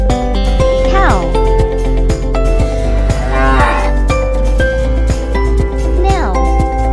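A cow moos repeatedly, with drawn-out, rising and falling calls sounding close over steady background music with chiming tones.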